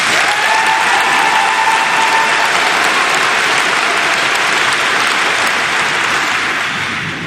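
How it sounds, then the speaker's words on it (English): A graduation audience at Bow High School breaks into loud, sustained applause, a thick continuous roar of many hands clapping that holds for about seven seconds and fades only slightly at the close. "Please again join me in giving Mr. Cook and Mr. Rogers a well-deserved round of applause."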